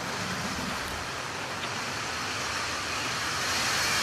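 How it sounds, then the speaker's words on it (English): Atlas V 531 rocket liftoff on the NROL-101 mission, a continuous broadband roar heard from a distance, steady and rumbling without distinct events, swelling slightly toward the end. "Liftoff to the Atlas NROL-101 mission for the National Reconnaissance Office."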